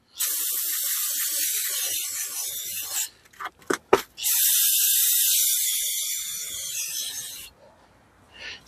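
Brake cleaner sprays from an aerosol can onto the rear brakes of a BMW 328i AWD outdoors, two long close hissing blasts separated by a few short clicks and spurts, followed by a quieter tail.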